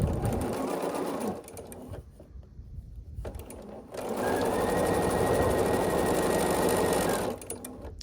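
A sewing machine chain piecing the side pieces of quilt blocks, running in two steady whirring bursts with a quieter pause between, close and loud, no voice.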